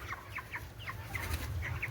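Cornish Rock Cross meat chickens cluck softly in a barn, a flock of short, repeated calls layered over a steady low rumble of background noise.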